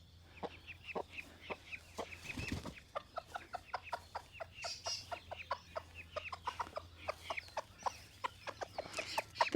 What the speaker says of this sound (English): Now that squawk was because it was a peewee that landed in the yard.